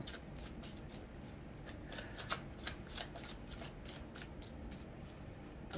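A tarot deck being shuffled close by, a steady run of quick riffling card flicks that continues throughout, quiet and with no talking.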